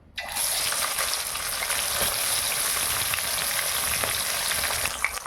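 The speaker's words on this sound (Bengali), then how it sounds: "এবার তেল গরম হয়ে গেছে, আমি শোল মাছটাকে এবার দিয়ে দেবো।" A sudden loud burst of sizzling as snakehead fish hits hot mustard oil, then a dense, steady crackle of frying continuing close by.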